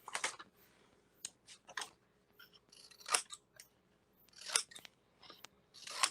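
Scissors snip and trim the edges of a scored paper pocket for a Stamperia Lady Vagabond mini album, a series of crisp close cuts in irregular bursts with quiet gaps between.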